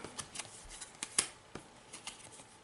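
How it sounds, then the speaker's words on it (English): Cards flipped one after another during a Slaughterville board game: soft, quick papery flicks and slaps at an irregular pace, close and fairly quiet, with a sharper snap near the middle and no talking. "let's go ahead and flip cards till we find an ally"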